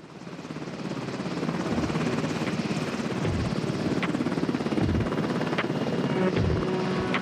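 Steady, loud thumping of a helicopter's rotor blades with a constant engine whine, heard from close by.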